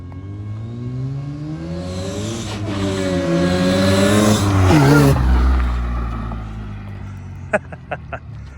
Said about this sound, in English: Maybe a little bit of slip in the supercharger belt, but it doesn't matter.